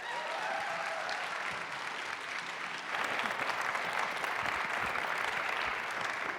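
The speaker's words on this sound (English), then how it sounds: "please join me in welcoming Wanda Nanibush for today's lecture, Performing Sovereignty" A lecture audience bursts into sustained applause to welcome the speaker, a dense steady clatter of many hands that swells louder midway and continues to the end.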